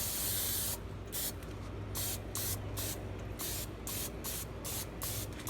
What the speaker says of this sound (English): aerosol canola